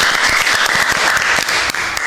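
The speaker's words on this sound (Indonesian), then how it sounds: "Tepuk tangan teman-teman." Applause from a youth audience at a children's knitting tutorial session, steady dense clapping filling the whole stretch, loud and close with no talk over it.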